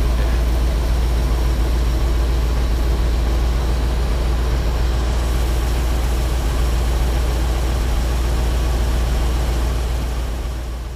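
A Ford F750 haul truck engine idles in a smoke-filled shop, a loud, steady low rumble that holds evenly throughout and fades slightly at the very end.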